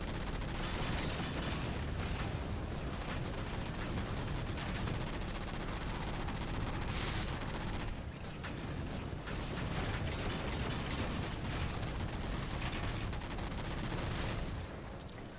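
Continuous main turret gunfire in Halo: The Master Chief Collection, dense, loud and mechanical, with rapid rattling shots layered over constant battle noise for the whole stretch.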